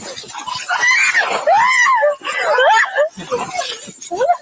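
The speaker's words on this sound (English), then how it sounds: "That was the most bitch-made scream I've ever heard." A woman screams loudly and shrilly in sweeping, wavering cries, close and sustained over several seconds, with emotional vocalizing mixed throughout.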